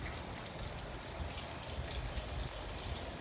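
Steady broadband sizzling and crackling, loud and continuous, of cube steak frying in hot oil, with no voices.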